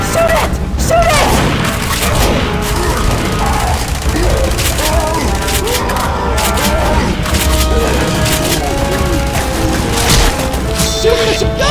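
Rapid gunfire and booming blasts from survivors shooting at the Tank in Left 4 Dead 2, dense overlapping shots and crashes throughout, with shouting voices mixed in.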